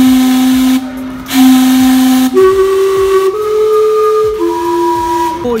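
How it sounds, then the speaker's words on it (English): Gastown's steam-powered clock in Vancouver sounds its steam whistles, a loud sequence of sustained hissing whistle tones that shift pitch across several long notes, heard close with no talking. "Steam clock is spotted. It's almost 8, so we're waiting for the steam to go off."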